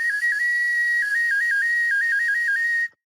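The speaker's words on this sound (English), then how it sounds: "of my Oscar Mayer Wiener whistle" A novelty Oscar Mayer Wiener whistle blown close up in one steady, loud, shrill tone lasting nearly three seconds, its pitch wobbling up and down in small steps before stopping abruptly.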